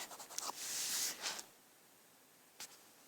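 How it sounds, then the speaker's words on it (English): A marker being wiped off a whiteboard in a classroom lecture setting: a few quick scratchy squeaks and a longer rubbing swipe, then near silence broken by one more short wipe. "I'm going to erase these things off of there"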